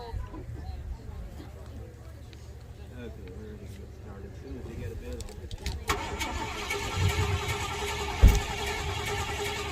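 A 1969 Ford F100 pickup at an auction, its engine cranking and then catching into a steady rough idle partway through, heard under ongoing talk by an auctioneer.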